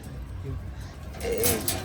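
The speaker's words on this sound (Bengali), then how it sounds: "এখানে দেখতে পাচ্ছেন দুইটা মাদি কবুতর" Racer pigeons, including a pair of females, coo softly in a low, wavering call near the end, under steady background noise and a nearby voice.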